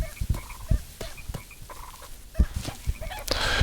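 Short clucking, gobbling fowl-like calls from the video game Baby Steps, several brief bursts scattered over game sounds and music, moderately close.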